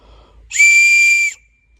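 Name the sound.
gym teacher's whistle blown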